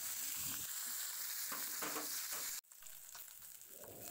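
Fish rubbed with salt and turmeric frying in hot oil, a close, steady sizzle with occasional spits that cuts off abruptly partway and returns softer and thinner afterward.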